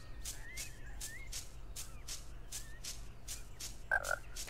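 Frog croaking in the Harry Potter and the Chamber of Secrets video game, a regular series of short croaks at a steady rhythm over low ambient background, with a brief louder call near the end.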